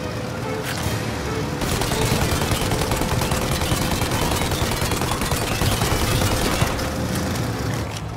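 Dense, continuous rapid gunfire crackles and rattles throughout in Mafia: Definitive Edition, loud and unbroken, like sustained automatic shooting with a low rumbling bed beneath.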